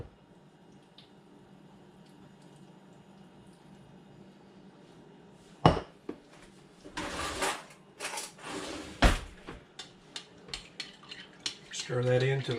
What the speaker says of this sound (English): Go ahead and mix our seasonings in.